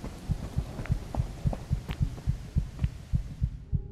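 Heartbeat pounding from low stamina in a horror video game: a steady, low, throbbing double-thump repeating roughly twice a second, loud and close, with faint game ambience beneath and no talk.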